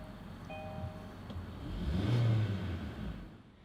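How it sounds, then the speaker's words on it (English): A 2017 Kia Sportage EX engine starts by push button after a short electronic chime, a brief starter whir rising into a soft, close rev that settles toward idle. "put your foot on the brake and hold it and push this button to start it up"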